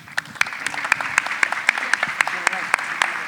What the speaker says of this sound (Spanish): También ese aplauso va para Gladys Contreras